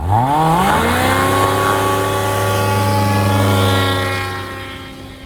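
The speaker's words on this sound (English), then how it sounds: "Start the takeoff roll with one notch of flaps, and as soon as I rip another notch in, pretty much I'm airborne." A small bush plane climbs out on takeoff after a second notch of flaps is added, its propeller engine droning loud and steady with a rising pitch, then easing slightly toward the end.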